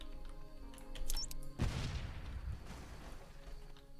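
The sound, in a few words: explosion in a video game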